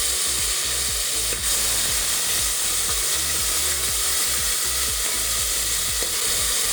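Chopped tomato and ginger-garlic paste sautéing for a Marathi chicken rassa, with a steady loud sizzle and a regular rhythm of spatula scrapes against the pan throughout, and no voices.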